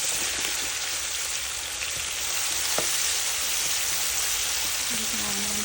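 Chopped onions fry in a pan with garlic and ginger for veg manchurian, giving a steady close-up hiss and crackle that runs unbroken throughout, with a brief low tone near the end.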